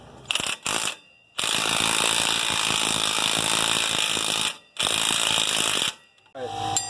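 A ratchet working loose a 35 millimeter CV axle nut, fast rapid clicking in long bursts broken by short pauses, close and loud.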